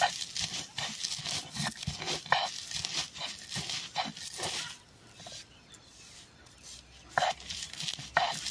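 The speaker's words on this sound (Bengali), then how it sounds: "জিনইটা এখন আমি পাটার মধ্যে ফাঁকি করে নেব" Oyster shells being crushed by hand on a stone grinding slab in a home kitchen, for making slaked lime for paan: repeated gritty scraping and cracking strokes, close and fairly loud, with a brief pause midway.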